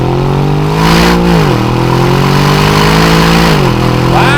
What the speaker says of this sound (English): So let's toss this into a few downshifts here and see what we can do around this corner